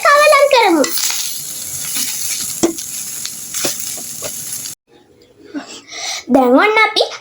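Pothupala greens are stirred through a frying stir-fry in a pan, giving a steady sizzle with light spatula scrapes and taps. A voice speaks at the start and again at the end, and there is a brief near-silent gap near the end.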